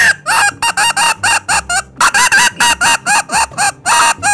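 A Sure Shot model 1005 duck call imitates a blue-winged teal with a rapid series of about twenty short, loud, nasal quacks in quick rhythmic bursts, close up and heard alone.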